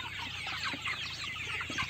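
A flock of backyard chickens, mostly roosters of meat and laying breeds, clucking and chattering continuously close by, a busy overlapping murmur of calls.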